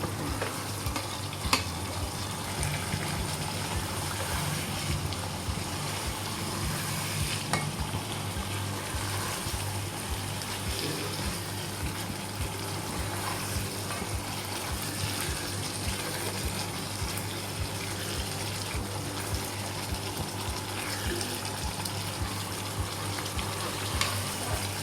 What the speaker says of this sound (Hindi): अब मैं इसको 2 से 3 मिनट तक भूनूंगी।